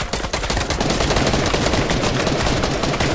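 Sustained automatic gunfire spraying in Fortnite, a dense, loud, unbroken stream of rapid shots that fills the whole stretch.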